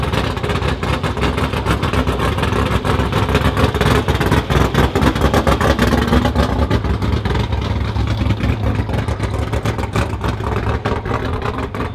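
A race car roars past at a drag strip at night, its loud engine noise steady and close throughout with no talking.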